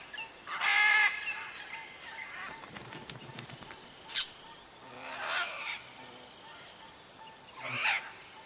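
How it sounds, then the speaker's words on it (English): Crimson-fronted parakeets call from an almendro tree in short, harsh bursts, one loud near squawk early and softer calls later, over a steady insect and forest hum. "A pair of crimson-fronted parakeets are setting up home next door to the macaws."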